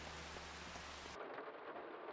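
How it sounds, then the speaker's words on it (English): Heavy rain pours in Farming Simulator 25, a dense, continuous hiss of downpour with a low rumble underneath that drops away partway through, leaving steady rain alone. "Absolutely chucking it down now."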